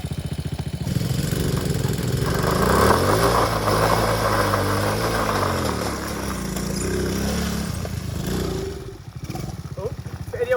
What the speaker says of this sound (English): Bogging again, boys, it's bogging!